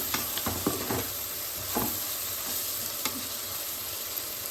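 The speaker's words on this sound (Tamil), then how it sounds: "அது கூடவே கொஞ்சமாக கொத்தமல்லி சேர்த்து நல்லா கிளறி விட்டுக்கிறோம்" Madurai-style goat blood fry with pepper and coriander is stirred in a hot pan: a constant sizzle punctuated by repeated sharp spatula scrapes and knocks against the metal, close and without talk.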